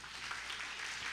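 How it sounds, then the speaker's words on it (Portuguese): Church congregation applauding, a faint, brief patter of many hands clapping together at a steady level. "Aplauda bem forte ao Senhor."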